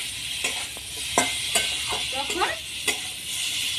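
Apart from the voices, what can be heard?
frying and stirring spice paste in oil for mango shol fish curry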